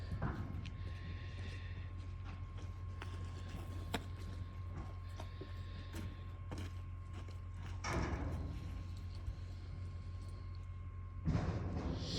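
Wild mustangs run in a chute: faint, scattered hoof thuds and knocks in a low rumbling background, with a couple of louder bangs like animals bumping against the pen.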